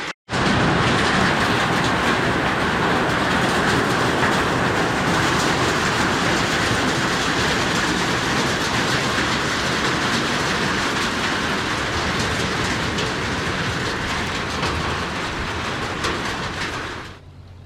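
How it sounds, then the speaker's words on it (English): Heavy rain pours down in a loud, unbroken roar that holds steady for the whole stretch, then cuts off abruptly near the end. "the rain is so loud"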